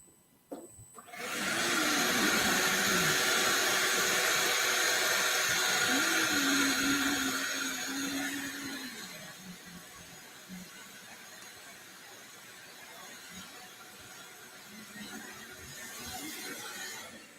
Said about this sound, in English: should we maybe just do a light vacuum or sweep of that table